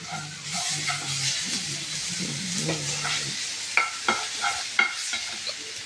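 Ginger paste and whole cumin seeds fry in hot oil, giving a continuous close sizzle while a utensil stirs, with a few sharper clacks and scrapes toward the end.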